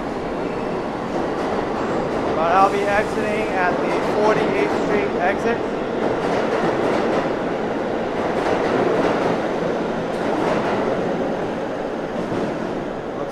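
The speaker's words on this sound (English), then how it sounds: "This is a Queensbound train going to 71st Avenue in Forest Hills." A Queens-bound subway train rumbles and rattles along the tracks in Astoria, New York, with a brief squeal of wheels, while someone talks over the steady noise.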